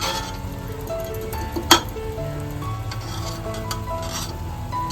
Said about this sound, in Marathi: इकडे ना आता आपण सर्व बिर्याणी मिक्स करून घेतोय